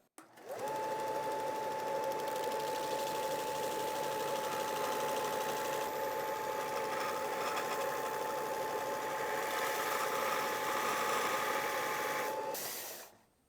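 A belt sander fitted with a torn 80-grit belt runs steadily for about twelve seconds, giving a close, continuous whining hum with a faint rhythmic flutter before spinning down.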